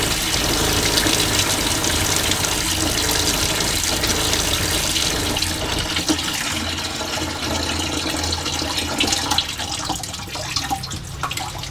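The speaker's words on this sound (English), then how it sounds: "Water flows." Water gushes from a tap on a pressurized van water system, a loud, close, continuous rushing flow that eases slightly toward the end, with no voices.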